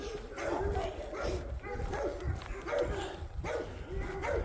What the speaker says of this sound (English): I was trying to get the goats, but there's a big dog.